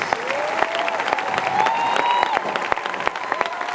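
A church congregation applauding and cheering in praise of Jesus Christ, dense steady clapping with crowd cheers and sustained vocal tones over it, loud and close throughout.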